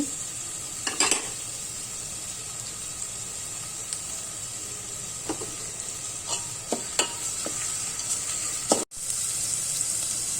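Tomato, ginger-garlic paste and turmeric fry in a pan for green moong dal khichdi, a steady hiss of sizzling broken by several scraping clinks of a spoon stirring against the pot, with one sharp knock near the end.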